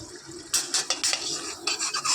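Metal spoon scraping and clinking against a pan while lifting fried potatoes, several quick, close scrapes and taps following a quiet start, no talking.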